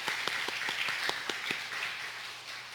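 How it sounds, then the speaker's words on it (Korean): Scattered applause from a small church congregation, a ripple of claps that thins out and fades toward the end. "우리 권사님 더 건강하시라고 우리 환영의 박수 보내겠습니다"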